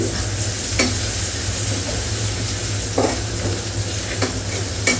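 Oil heating in a pan before prawns go in gives a steady, close sizzle with a constant frying hiss, broken by a few brief stirring clicks and scrapes and some sharper spits.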